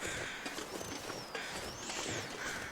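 Crows caw repeatedly in The Long Dark, hoarse calls recurring over a steady wind-like wash, distant and fairly faint with no talk.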